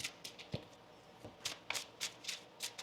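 Tarot cards being shuffled in a series of quick crisp riffles and slaps, close up and alone, with brief pauses between bursts.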